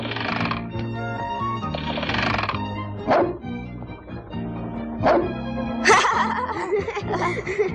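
A Bernese mountain dog gives a few sharp barks spaced a couple of seconds apart, heard over a loud background of sustained music.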